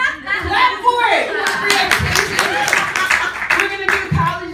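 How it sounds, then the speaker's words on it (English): A comedy show audience claps along in a dense, steady patter of hands, with scattered chuckles and voices mixed through the crowd noise, fairly close and loud throughout. "Clap for it!"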